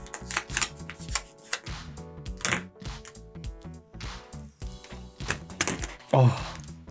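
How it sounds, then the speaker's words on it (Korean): Plastic film is torn and peeled off an AirPods Max headphone box, giving a run of close crackling, snapping bursts and rustles at an uneven pace, with a crisp crinkle near the end. "자, 그럼 제가 비닐을 뜯어보도록 하겠습니다."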